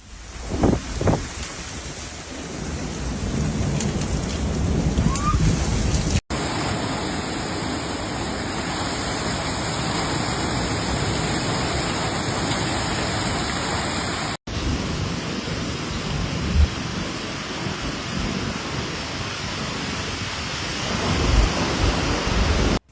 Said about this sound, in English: The late afternoon storm brought rain, hail, and powerful wind gusts